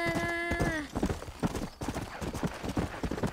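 Hooves of a horse in Red Dead Redemption clop in a steady walking rhythm, close and clear, with a brief tonal whinny-like sound at the start.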